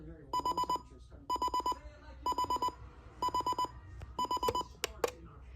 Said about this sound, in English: That's the what the alarm sounds like on this DreamSky clock radio.